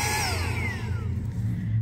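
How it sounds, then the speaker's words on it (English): A Saker 3-in-1 handheld vacuum cleaner motor whines at high pitch and winds down after being switched off, its tone sliding lower as it spins to a stop. "this is a nice little vacuum to clean out your car and stuff"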